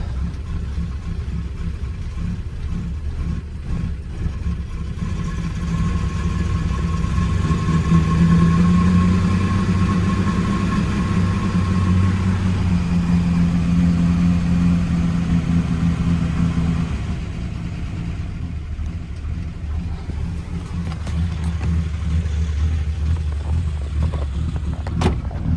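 Plymouth Belvedere engine idling after a cold start in snow, a steady mid-pitched rumble that swells slightly in the middle and stays loud and close for the whole stretch.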